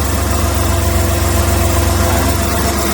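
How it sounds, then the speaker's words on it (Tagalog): A Multicab engine idles steadily at idle RPM, a loud, constant rumbling drone with an even low throb and no talk. "Ito yung kanyang idle RPM."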